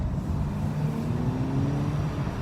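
A VW GTI driving on the road, with a steady low engine drone and road rumble heard from inside, continuous and moderately loud with no talk.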